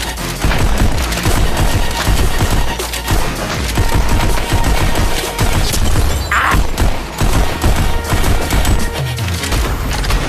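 Rapid, relentless gunfire from the VR game Pistol Whip on a Meta Quest 3 fills the whole stretch, dense overlapping shots and booms at high, constant loudness with no pauses.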